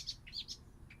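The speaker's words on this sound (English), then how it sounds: "All the little birds are waking up." Small birds chirping on a winter morning, a few quick high tweets scattered over a second, light and moderately near with no voices.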